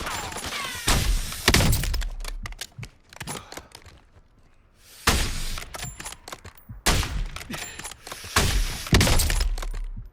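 Gunfire in the shooter Warzone: loud, close bursts of rapid shots in two clusters separated by a quiet gap, with sharp cracks and shattering impacts.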